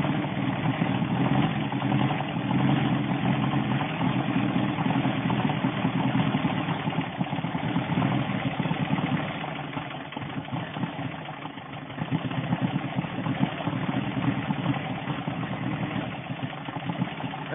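A 1970 VW Beetle engine idles close by, a steady rumbling putter that dips slightly midway and then carries on evenly.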